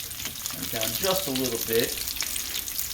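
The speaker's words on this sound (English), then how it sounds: "Frying up chicken cutlets." Chicken cutlets fry in a pan with a steady, close sizzle and crackle that runs the whole time, while a voice talks briefly over the cooking.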